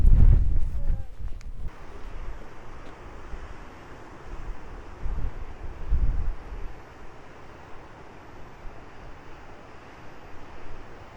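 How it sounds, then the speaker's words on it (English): Strong wind on the Norfolk coast path near Holme Dunes, buffeting the microphone in loud gusty rumbles over a constant roar, with a burst of heavy buffeting at the start. "Very windy today though."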